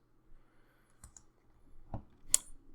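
A few sparse, sharp clicks of a computer mouse during CAD modeling in Fusion, sounding close but faint against a quiet room.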